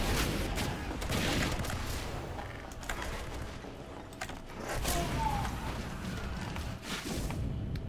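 Rapid, dense gunfire in a Team Fortress 2 match on the Hightower map, a loud, continuous fusillade of overlapping shots and mechanical clatter filling the whole stretch without pause.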